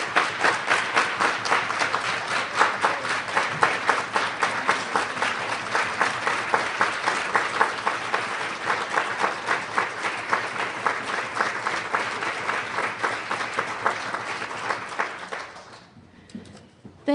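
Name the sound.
round of applause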